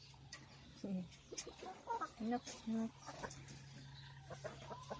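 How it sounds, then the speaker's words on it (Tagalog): Two caged chickens on a small farm give short clucks and murmuring calls in quick bursts, close and fairly quiet, with a low steady hum beneath and a person speaking briefly. "may dalawang manok na nakakulong para mas mabantayan sila"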